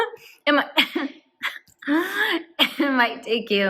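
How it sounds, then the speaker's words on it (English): A woman coughs and splutters between laughs in a few rough bursts, close and loud, mixed with brief speech of her own. "I'm coughing, choking as I'm laughing"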